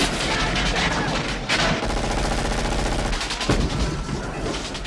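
Automatic rifle fire in the Die Hard action scene at the Nakatomi building: dense, continuous bursts of gunfire with booming impacts, loud and close, filling the whole stretch without pause.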